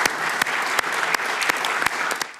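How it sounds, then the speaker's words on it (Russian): Steady applause from a crowd at a US congressional hearing, dense and even throughout, with a few sharper claps standing out, no voices over it. "Комиссары бостонской полиции на слушаниях приветствовали аплодисментами"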